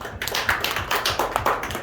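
A church congregation claps at the close of a Korean Sunday worship service, a dense, steady patter of many hands with a loose pulse running through it.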